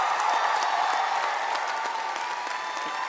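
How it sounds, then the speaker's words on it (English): An audience at a new student convocation claps and cheers for the resident advisors, a broad sustained applause with scattered shouts that gently tapers toward the end. "Let's give a cheer for our resident advisors"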